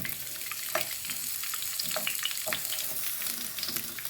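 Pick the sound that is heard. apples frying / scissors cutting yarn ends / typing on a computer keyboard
apples frying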